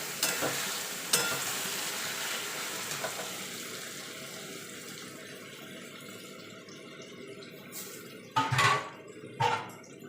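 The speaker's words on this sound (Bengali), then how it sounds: "এবার যে বেগুন টমেটো আর রসুন আর শুকনো লঙ্কাটা মেখে রেখেছিলাম সেটা দিয়ে দেবো" Eggplant, tomato, garlic and dried red chilli hit fried onions and oil in a pan on low heat, giving a fading sizzle with spatula scrapes and a few louder clattering stirs near the end, without speech.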